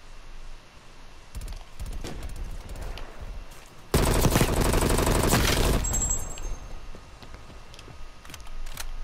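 Automatic gunfire in Call of Duty Cold War, a loud sustained burst of rapid shots lasting about two seconds, with scattered quieter shots and game sounds before and after.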